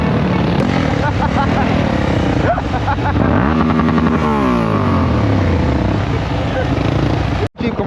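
Yamaha YZF sport motorcycle riding on road tires, its engine droning steadily with rising and falling revs throughout, close and loud, with voices talking over it.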